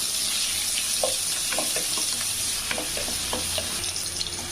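Sliced large onions sizzle steadily in hot oil in a pan, with a constant bright frying hiss and occasional soft stirring scrapes close by, and no voices.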